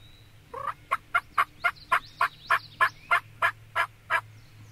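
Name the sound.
wild turkey gobbling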